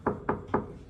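Three evenly spaced, firm knocks on a hotel room door, close and loud, each a short hollow thud with a brief decay, and nothing heard after the third.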